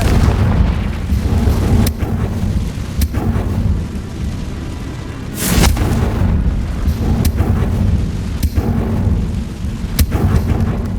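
Confringo spell explosion in Hogwarts Legacy, a loud continuous rumbling roar with sharp cracking bursts and one big blast midway, heavy and booming throughout with no talk.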